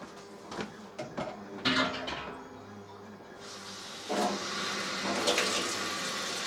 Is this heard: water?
yes